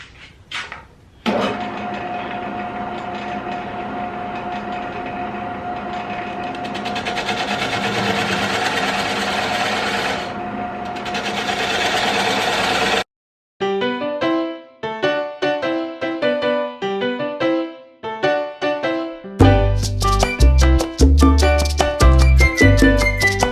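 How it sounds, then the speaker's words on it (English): A Jet 1440 wood lathe cuts a recess into a eucalyptus bowl blank. A steady motor hum and scraping tool noise carry on for about thirteen seconds, then stop abruptly before rhythmic music takes over. "Now I'm going to go ahead and make my recess here so we can get this thing flipped on the lathe."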